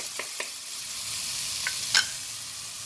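String beans sizzle in a pan for Chinese sautéed beans, a soft continuous frying hiss with a few brief spatula scrapes and one sharper clink toward the end.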